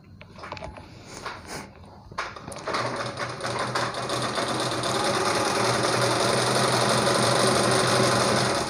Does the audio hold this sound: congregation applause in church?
no